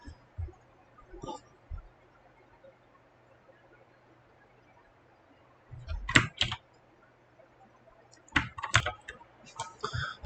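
Two short bursts of clicky keyboard typing break a quiet background, with a few faint isolated taps earlier.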